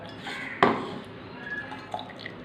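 Melted jaggery dissolved in water is poured into wheat unniyappam batter in a bowl, with a sharp utensil clink against the bowl, soft liquid trickling and a few light drips, close and fairly quiet.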